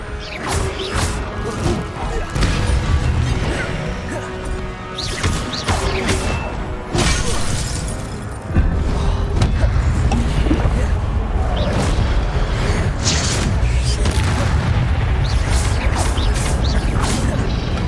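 Spell effects from the video game Hogwarts Legacy: loud whooshes, crashes and booming bursts pile up over a dense rumbling game soundscape, with a heavier sustained low roar in the second half.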